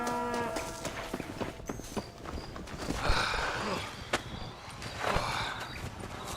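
Cattle in the Red Dead Redemption video game, with low bovine calls, hooves clopping and shuffling close by, and a busy herd of farm animals milling around at moderate loudness.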